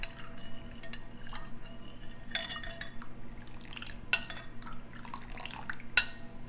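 A spoon stirring in a bowl to dissolve gelatin granules for strawberry pretzel salad, a steady soft swishing of liquid with occasional light clinks of metal against the dish.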